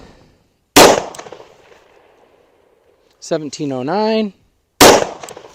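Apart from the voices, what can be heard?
9mm pistol gunshots firing Underwood 68 grain +P ammo into gel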